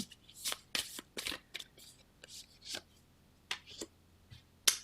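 Moonology oracle cards being shuffled in quick bursts of crisp riffling and slapping, close and bright, with short pauses between handfuls.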